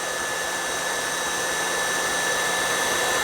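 Steady, loud whir of an electric hand mixer whipping cream for a tiramisu, a continuous motor hum with no talking.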